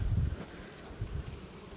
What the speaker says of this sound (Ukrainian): Бджоли багато.